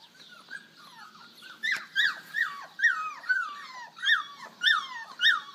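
A litter of ten young Barbet puppies outdoors, whimpering and yipping in high, repeated cries, several close calls overlapping in an uneven rhythm.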